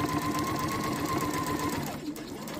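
A domestic sewing machine runs steadily, stitching a scissor pouch seam with a quarter-inch allowance, a fast even mechanical whir that slows and stops near the end.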